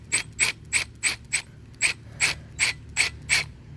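A ratchet wrench turns a screw into a concrete anchor, giving ten crisp, evenly spaced clicking bursts with short pauses between them, close and clear with no talking.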